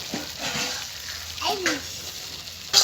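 Ground coriander, cumin and chilli powder frying in oil for an egg korma, a soft continuous sizzle with scraping stirs and a sharp clink near the end, no voices.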